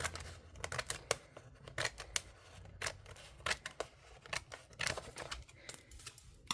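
Scissors trim paper close by in a quiet room, a series of sharp, crisp snips in an uneven rhythm with small pauses between cuts, no voices.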